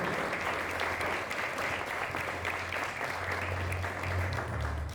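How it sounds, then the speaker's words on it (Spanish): Steady, dense applause from a church congregation, continuous and fairly loud throughout with a low hum underneath. "Un aplauso para ella."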